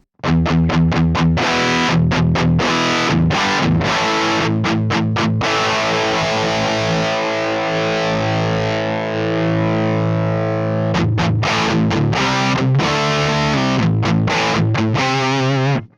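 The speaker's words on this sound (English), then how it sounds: "if I push it too much, it gets a bit too overwhelming with the distortion" Heavily distorted electric guitar through a Mesa Boogie Mark IIC+ tube amp plays loud, with choppy chugging rhythms at the start and end around a long sustained, ringing chord.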